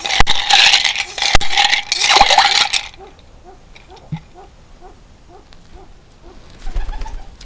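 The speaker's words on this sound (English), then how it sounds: "I'm sitting here with a pigeon on my arm" White pigeon perched on a person's arm: close, loud rustling and scraping at first, then a repeated series of soft, low coos in a slow, even rhythm, ending with another burst of rustling.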